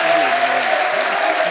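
Steady, dense audience applause for a contestant named Hisham on the Tunisian talent show "النوبة Talents", loud and continuous throughout with a faint voice tone running beneath.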